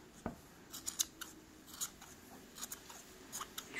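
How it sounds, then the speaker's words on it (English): Scissors snip close by to trim a yarn pom-pom into a tight ball: a string of quiet, irregular cuts and light rustles, with no speech. "Trimming off all the straggly bits."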